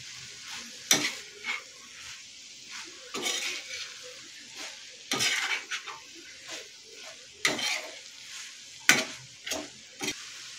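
A spoon scrapes and clatters in a pan as spices are stirred into sizzling spring onions. The strokes come in irregular bursts over a soft, steady fry.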